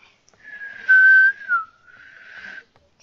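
A single person whistles one sustained note that slides downward, then a softer wavering continuation, close and alone with no talk, during play of the horror game Doors.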